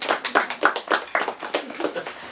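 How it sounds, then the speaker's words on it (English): A small group of people claps for a local music professional introduced as a special guest at a clinic, a brief burst of irregular, fairly close applause fading out over a couple of seconds. "You can clap for him if you want."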